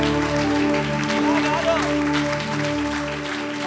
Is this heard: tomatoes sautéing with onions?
no